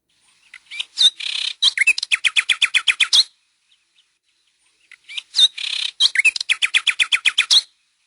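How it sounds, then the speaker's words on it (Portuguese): A nightingale sings two separate phrases, each a bright warble that turns into a rapid run of repeated high notes, with a pause of silence between them. "Esse é o som do rouxinol"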